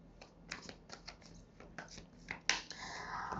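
Tarot cards are taken out and shuffled nearby, with a series of soft, sharp riffling clicks and flutters, then one louder riffle followed by a sustained papery rustle. The shuffling plays alone, with no talk.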